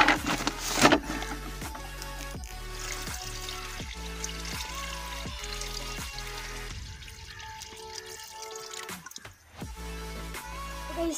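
Water poured steadily into a container, a continuous trickling stream with a rising tone and a brief splashing break near the end.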